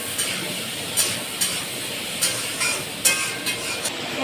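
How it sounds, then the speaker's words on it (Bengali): Potatoes fry in a pan with salt and turmeric under a steady soft sizzle, with a spoon scraping and stirring in irregular strokes every second or so. "আলুটা দিয়ে একটু ভেজে নেব।"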